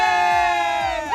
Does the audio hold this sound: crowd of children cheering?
yes